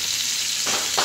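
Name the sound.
garlic sizzling in hot oil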